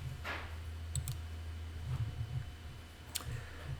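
A computer mouse clicks a login button on a PC running accounting software, a few sharp, close clicks scattered over a few seconds above a low steady hum.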